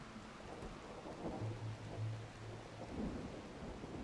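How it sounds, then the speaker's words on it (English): Steady rain with low rolling thunder during a thunderstorm in the video game RimWorld, heard as a continuous wash of rainfall and a deep rumble swelling midway, at moderate distance with no talk. "Nothing like a lightning storm to keep things interesting."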